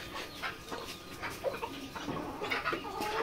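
Boarded layer chicks and hens at a poultry farm cluck and chirp in overlapping bursts, close and fairly busy, with soft peeping calls scattered throughout.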